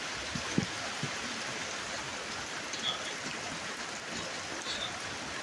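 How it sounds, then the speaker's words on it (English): Rain falls with gusting wind during a tornado watch, with sun shining through the shower. A steady, even hiss of moderate loudness holds throughout, with a few soft low thumps near the start and no voices. "it's raining and sun shining, and we got some wind blowing."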